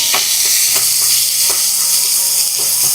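Chopped onion and fennel sautéing in hot coconut oil in a kadai, a steady close sizzle broken by a few soft stirring scrapes, with no voices.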